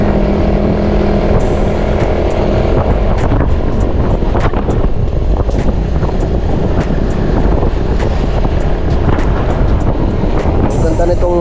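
A motorcycle ridden along a road, with heavy wind buffeting the microphone and a steady engine drone throughout, plus scattered sharp clicks and rattles.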